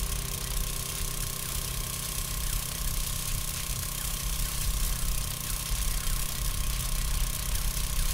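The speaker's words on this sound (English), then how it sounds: "Noise does not seem to be an issue now with the auger." An auger in the 7 Days to Die video game runs at idle, a continuous mechanical drone with a steady buzzing hum that holds at an even level from start to finish.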